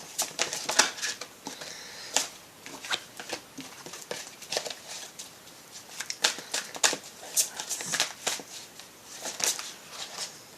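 Tarot cards being handled and drawn, close dry flicks, slides and quick snapping riffles in irregular bursts throughout, with faint voice at moments.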